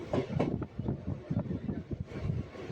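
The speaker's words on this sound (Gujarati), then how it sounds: "જુઓ કેવી રીતે ટ્રેન ચાલી જઈ રહી છે" A train runs past green, jungle-like country near the village of Chandisar on the Bijou line between Gandhidham and Palanpur. It gives a close, steady rumble and clatter with gusts of wind noise.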